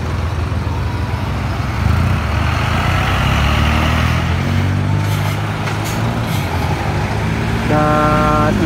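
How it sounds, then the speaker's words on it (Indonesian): A Scania 310 IB intercity bus pulls away at full throttle bound for Bengkulu, its engine roaring steadily up close, with brief horn toots near the end. "Busan dengan Scania 310 IB langsung gaspol menuju Bengkulu."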